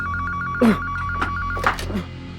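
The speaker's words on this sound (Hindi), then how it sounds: "तुम फोन उठाओ प्लीज" A telephone rings with a steady repeating electronic trill, heard close and continuous, while a few soft thumps and brief movement noises cut in around it.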